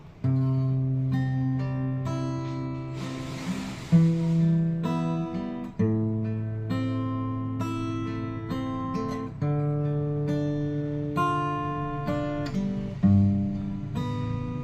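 An unplugged acoustic guitar, retuned after drifting out of tune, strums steady chords while a solo voice sings a Thai ballad over it, close and clear.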